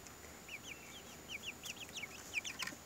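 A Leghorn hen clucks outdoors near a shaded coop, giving a quick run of soft, rising chirpy clucks at low volume over a steady background hiss.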